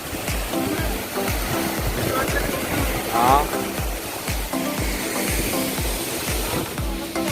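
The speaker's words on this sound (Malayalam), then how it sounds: "നമ്മൾ ഇപ്പോഴാണ് ശരിക്കും പറഞ്ഞ യഥാർത്ഥ വെള്ളച്ചാട്ടത്തിന്റെ അടുത്തേക്ക് വന്നത്." A waterfall at Vagamon, Kerala, heard up close as a loud, continuous broadband rush of falling water with scattered thumps and splashes, voices faintly mixed in.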